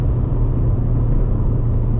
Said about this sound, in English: It sounds like the exhaust is literally like right behind you